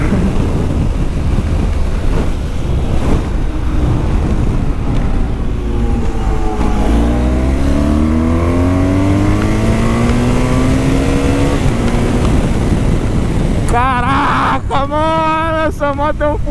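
A BMW 1200 motorcycle accelerates hard, its engine note climbing in rising sweeps through the gears over a loud, steady wind rush, with a voice briefly speaking near the end.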